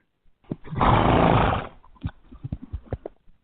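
A horse gives a loud, drawn-out neigh lasting nearly a second, then a quick run of close, uneven hoof clip-clops and snorts follows.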